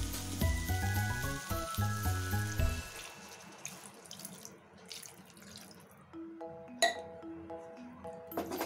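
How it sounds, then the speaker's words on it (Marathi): Water poured into a cooking butter chicken spice mixture of cumin and fennel powder, a running splashy pour set against tonal background music that fades in and out. "आता आपण या मिश्रणात पाणी टाकूया"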